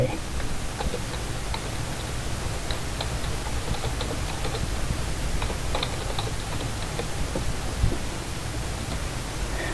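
Key taps on a computer keyboard while a file name is entered for a saved free-fall experiment in virtual lab software: light irregular clicks sit faint and steady above a constant low hum, with no voices.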